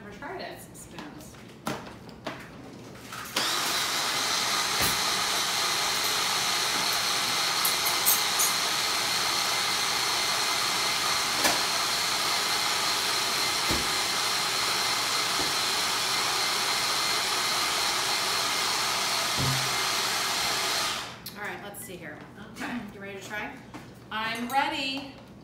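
A food processor chops vegan Caesar dressing, running as a steady loud whir for about seventeen seconds before stopping, with brief voices heard just before and after it.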